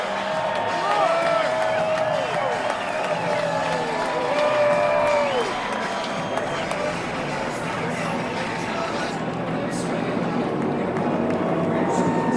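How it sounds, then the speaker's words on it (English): A Daytona 500 grandstand crowd roars and cheers as the field rolls past, a broad, steady wall of noise lasting throughout, with a commentator talking over it. "And a big roar from the crowd as they come past."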